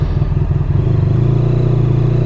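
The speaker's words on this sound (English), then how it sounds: "I imagine it's going to be a good bike to do a 0 to 60" A 170 HP V4 sports touring motorcycle accelerates hard from a standstill toward 60, its engine a loud, close, rising roar with clattering mechanical texture.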